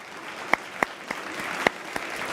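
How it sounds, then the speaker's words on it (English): Sparse, scattered hand claps from a few people sound during a live watch-along of FC Barcelona vs Borussia Dortmund in the UEFA Champions League, with about half a dozen soft, separate claps over faint background noise. "And applauses."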